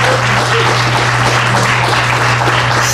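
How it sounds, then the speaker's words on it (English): A crowd at the Regal Mile Studios groundbreaking in South Shore applauds steadily for three seconds, a dense, even wash of clapping with a constant low electrical hum running underneath. "You can absolutely clap for that"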